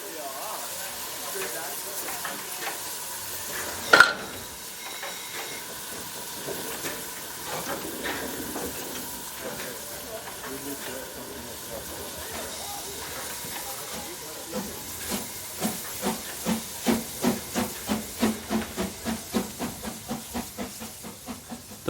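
A steam locomotive on the Brocken railway in Germany hisses softly in the distance, then its exhaust beats build into a rapid, rhythmic chuffing that grows louder toward the end, with a narrator speaking over it.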